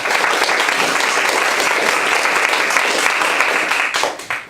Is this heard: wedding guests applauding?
yes